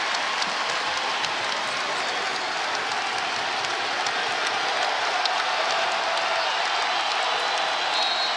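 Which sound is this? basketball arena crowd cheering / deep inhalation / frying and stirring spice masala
basketball arena crowd cheering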